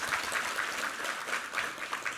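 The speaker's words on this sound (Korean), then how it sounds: "우리 하나님께 감사와 영광의 박수 올려드리겠습니다" A church congregation claps together, a brief burst of dense, even applause that fills the room at moderate level.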